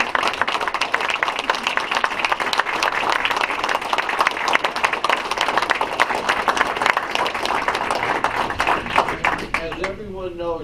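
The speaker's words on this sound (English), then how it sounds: "Let's give these girls a round of applause." A council meeting audience applauds a group of cheerleaders with sustained, dense clapping that fills the room for several seconds before thinning out at the end.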